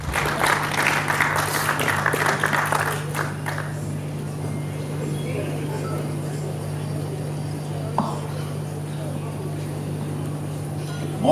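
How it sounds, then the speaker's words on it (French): Audience applause at the Trophée Kongo awards evening at the Pullman, a dense clapping wash that fades after a few seconds into a low room hum with scattered noise. "Sous vos applaudissements"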